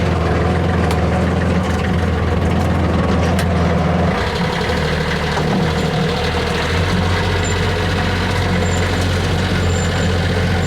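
A heavy vehicle engine rumbles steadily and loudly at idle on a rural homestead, a constant low drone with slight shifts in tone and no voices.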